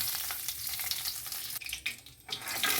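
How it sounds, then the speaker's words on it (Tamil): Poppy seeds, fennel, cloves, cinnamon and bay leaf crackle and sizzle in hot oil, a bright spattering hiss with a few brief stirring scrapes and a short dip midway. "எண்ணெய் நல்லா காஞ்சிடுச்சு. இப்போ கசகசப்பட்டை, சோம்பு, கிராம்பு, பட்டை இலை இதெல்லாம் போட்டுக்கோங்க."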